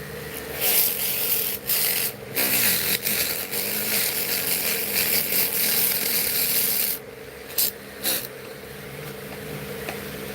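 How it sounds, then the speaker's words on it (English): A Dremel rotary tool with a sanding cloth runs at low speed, a close, continuous grinding whir that shifts in pitch as it presses on the work, broken by a few brief pauses. "And you can sand and sand and sand."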